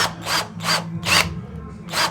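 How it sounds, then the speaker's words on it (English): A drill or power tool works in rhythmic bursts while blinds are being installed, four or five rasping strokes in quick succession, close and fairly loud. "I don't want to make the mic dirty as I drill here"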